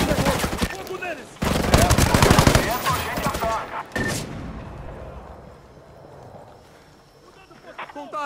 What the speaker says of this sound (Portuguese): Tiros! Dispararam armas de fogo!